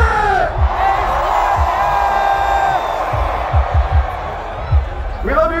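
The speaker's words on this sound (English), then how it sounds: "put your hands in the sky and scream so the motherfucking aliens can hear us." Festival crowd at an electronic music set at Bass Canyon screaming and cheering together, a loud sustained roar of many voices with whoops and yells rising above it.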